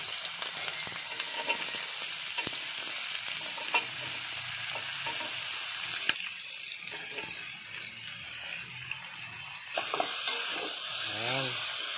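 Chayote pieces sizzle and crackle as they are sautéed with onion in a pan for Filipino ginisang sayote with corned beef, a steady frying hiss with stirring clatter and a brief rush of running tap water near the end.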